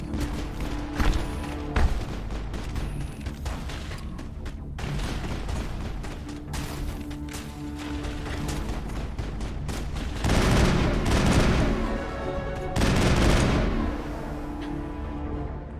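Rapid sniper and weapon fire from the Mass Effect video game played on PC, a dense run of sharp shots and booming impacts, loud and close with heavier bursts near the end.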